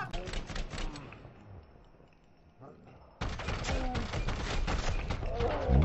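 Rapid gunfire in a tactical shooter video game, a dense crackle of shots that thins out, then returns louder and more sustained partway through, with game effects layered over it.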